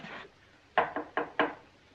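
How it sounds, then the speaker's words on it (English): Four quick, firm knocks on a wooden door in a 1940s war film, close and distinct, coming after a brief earlier sound. "There's someone at the door."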